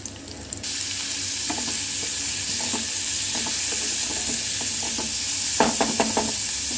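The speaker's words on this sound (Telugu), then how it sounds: "ఎండుమిర్చి పచ్చిమిర్చి కరివేపాకు వెల్లుల్లిపాయలు అన్నీ వేసుకోవాలి ఇవన్నీ బాగా ఫ్రై చేసుకోవాలి" Dried and green chillies, curry leaves, garlic and onions fry in oil for a chana dal and coconut curry: a loud, close, continuous sizzle with repeated clinking scrapes of a spatula stirring the pan, and no talking.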